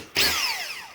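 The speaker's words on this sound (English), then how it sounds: "And then you would come in with your drill" A power drill spins up abruptly with a short whine that winds down in pitch over about a second, close and alone.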